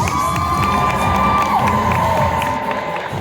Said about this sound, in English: Put your hands together for Daisei Osamu from Boko Stray Dogs.